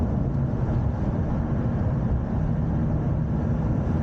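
Lotus Emira V6 with manual gearbox accelerating on a race track, a loud, dense low engine roar heard from inside the car that holds steady with constant rumble and wind noise, no talk over it.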